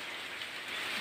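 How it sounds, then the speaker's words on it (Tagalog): Steady rain falling on a goat farm, a dense continuous hiss of drops with no voices, fairly close and even throughout. "Kasi nga umuulan na."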